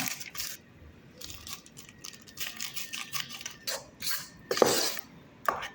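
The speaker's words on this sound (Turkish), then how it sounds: "Normal böyle büyük bir kaşıkla karıştırmaya devam ediyoruz." A big spoon stirring carrot cake batter in a bowl, with intermittent clinks and scrapes against the bowl, fairly quiet and close, in a home kitchen.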